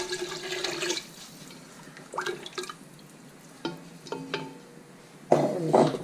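Water is poured into a pot to fully cover meat for couscous, with short splashing and trickling bursts between quiet gaps and a louder gush near the end.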